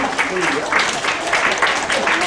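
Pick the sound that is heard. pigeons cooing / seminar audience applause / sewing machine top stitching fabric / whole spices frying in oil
seminar audience applause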